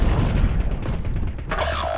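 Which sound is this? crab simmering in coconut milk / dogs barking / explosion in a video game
explosion in a video game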